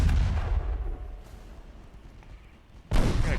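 Naval guns boom in a battleship engagement in Ultimate Admiral Dreadnoughts, with a heavy blast at the start, a rumbling decay and another loud report near the end.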